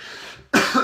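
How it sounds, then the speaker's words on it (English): A single close cough bursts out sharply after a brief quiet breath, loud and alone. "I think I'm going to cough some more, so apologies."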